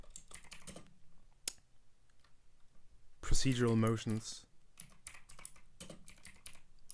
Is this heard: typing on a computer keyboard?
yes